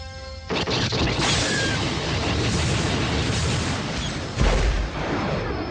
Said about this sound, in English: loosing a solid burst from all 4 of her lasers